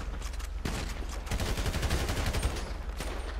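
Rapid gunfire in the video game GTA 5: dense bursts of automatic shots and overlapping fusillades, loud and continuous through the short stretch, with no talk.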